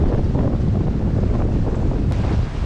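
Strong wind roars over the microphone aboard a sailboat during a race with another boat, a loud steady rush with faint water wash beneath and no voices.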